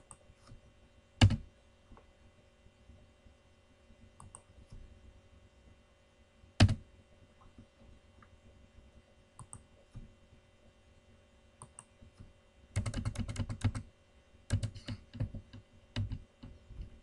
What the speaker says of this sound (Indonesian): Ini saya menekan tombol tab nih.